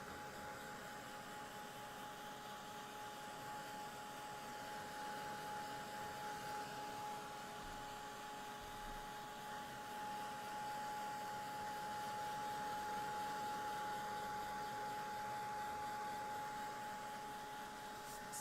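A heat tool dries a Distress Oxide ink layer on an art journal page, giving a faint, steady whirring blow with a constant high tone that runs unbroken throughout.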